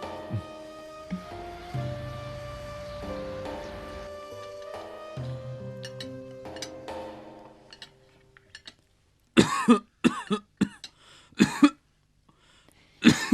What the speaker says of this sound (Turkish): sigara öksürüğüne tutuldu baba